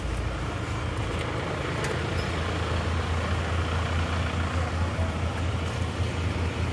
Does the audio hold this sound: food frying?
no